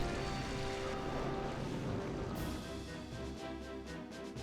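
Steady rain weather effect in the Pokemon Colosseum video game, a dense, constant hiss and patter running throughout under a low, droning game background, with no voices.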